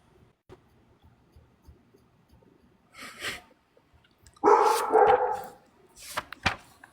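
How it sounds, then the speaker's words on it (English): A dog barks indoors in several loud bursts: a short volley, then a longer run of barks, then a final quick pair, with quiet room sound in between. "even your dog is barking at you"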